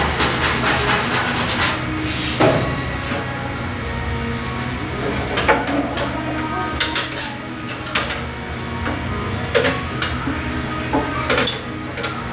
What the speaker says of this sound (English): so I'm going to sand that out.